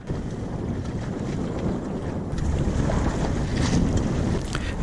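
Wind buffets a Welsford Navigator sailing dinghy at sea, a steady broadband roar with water wash that strengthens partway through and stays loud to the end.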